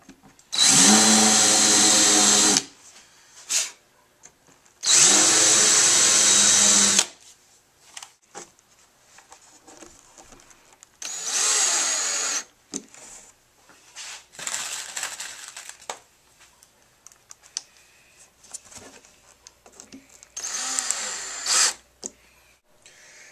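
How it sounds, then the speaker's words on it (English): A power drill bores and countersinks holes in a mahogany picture frame, with several loud, sustained bursts of a few seconds each separated by pauses and softer handling noises. "Now I'm going to go through and just drill and countersink a few more holes to hold the mahogany frame in place."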